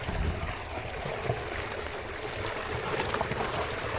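Irrigation water flows along a channel toward rice paddies in Taiwan, a steady, even rushing with a low rumble and no voices.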